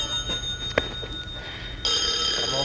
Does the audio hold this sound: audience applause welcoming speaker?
no